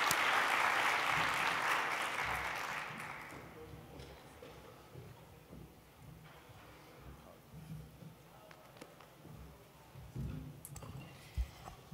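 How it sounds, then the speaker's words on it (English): A conference audience applauds a speaker with a dense burst of clapping that is loud at first and then fades over about three seconds, leaving quiet room sounds and scattered small noises. "So please give Tiffany a very warm round of applause as she speaks to us today."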